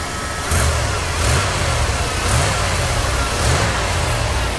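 A 1993 Chevrolet 1500 454 SS V8 running under the hood, a steady engine drone with gentle rhythmic swells about once a second, close and even.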